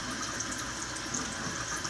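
Hot water runs steadily from a tap into a sink, a continuous, even rush of flow with no breaks and no voices.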